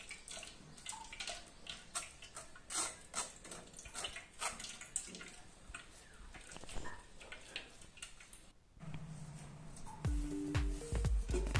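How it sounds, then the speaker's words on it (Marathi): Water is added while beetroot and carrot juice is strained through a sieve, giving quiet, uneven splashing and trickling nearby, with a fuller pouring rush near the end. "हळूहळू पाणी घालून त्याचे पाणी काढून घ्यायचं आहे."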